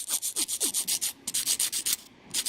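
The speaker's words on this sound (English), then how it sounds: "So, you just file your nails in any way you want." A nail file rasps against acrylic nails in quick, close back-and-forth strokes. The bright, scratchy passes are loud and rhythmic, with one short pause midway and no talking.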